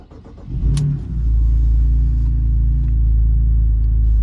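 BMW Z4 Coupe with the N52 engine cranks briefly, catches with a loud rising flare, then settles into a steady, close idle rumble.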